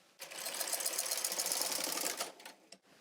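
A Brother 260 knitting machine carriage sweeps across for the first row of yarn, a close, dense mechanical rattle lasting about two seconds, then a couple of quick clicks.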